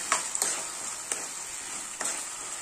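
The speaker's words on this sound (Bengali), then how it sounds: "ভাজা আলুগুলো সব দিয়ে একটু কষাবো আবার।" Fried potatoes sizzle softly in a pan while a spoon stirs them, a steady hiss with a few distinct scraping knocks, close and fairly quiet.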